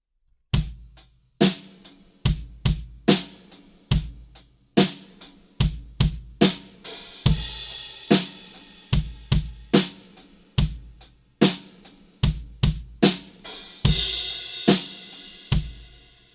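A steady drum groove, punchy kick and snare hits, with an open hi-hat on beat 4 and bright crash cymbals on the next bar's downbeat at regular intervals.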